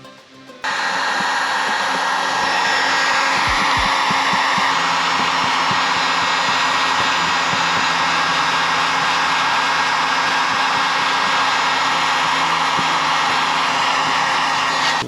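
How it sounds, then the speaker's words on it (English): A heat gun blows loud and steady as it is used with a scraper to strip decals from an RV camper, a constant close rushing hiss for about fourteen seconds, with a few low thumps near the start. "So the other method we're going to try is the heat gun and the scraper."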